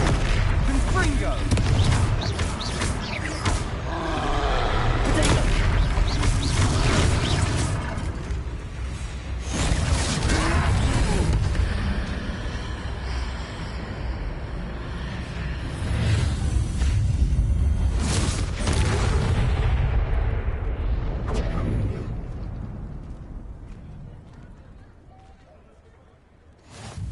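Booming fiery blasts from the Confringo spell in a video game, heavy rumbling explosions with whooshes that swell and fade over several waves, mixed with in-game dialogue and a voice calling out.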